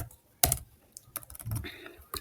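Fingers tap on a computer keyboard in a short, uneven burst of close, crisp key clicks with brief pauses between strokes.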